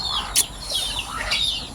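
Chickens cluck and a young rooster calls briefly, faint and somewhat distant, with scattered bird chirps in the background.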